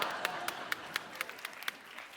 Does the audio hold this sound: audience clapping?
yes